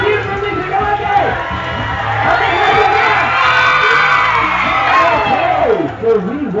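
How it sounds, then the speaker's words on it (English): An audience at a bird show in a zoo safari park cheers and whoops loudly for Timmy, a sustained crowd roar mixed with children's shouts and excited voices. "Everybody give me a loud cheer for Timmy"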